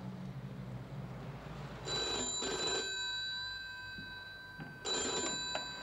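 A telephone bell rings in two bursts, the first longer and the second shorter, each ending in a faint lingering ring, set against a steady low room hum with no talking.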